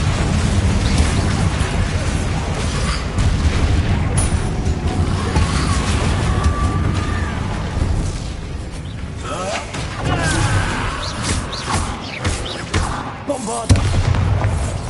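Confringo spell explosions in the Hogwarts Legacy video game: dense, loud booming blasts and rumbling battle effects running throughout, with a player shouting spell names over the din.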